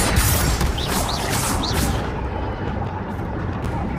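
Spell explosions in the Hogwarts Legacy video game make a dense, loud barrage of booms and crackling blasts that overlap, then fade into a dull rumble.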